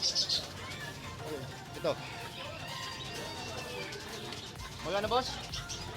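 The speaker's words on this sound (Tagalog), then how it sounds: "May mga ibon dito." Pigeons or doves and chickens for sale at a Manila market coo and cluck softly under close, ongoing conversation between a buyer and a seller.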